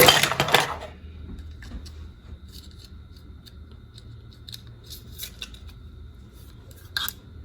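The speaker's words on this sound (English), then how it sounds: "I have a couple of pair of kitchen shears." Kitchen shears handled at close range: a loud metallic rattle and clatter at first, then faint scattered clinks and a sharper tap near the end.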